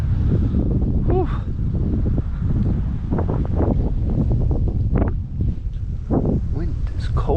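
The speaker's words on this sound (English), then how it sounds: "Wind is cold." Cold wind buffets a fishing boat on a lake in Maine, a steady roar of gusts striking the microphone throughout, with a voice speaking over it.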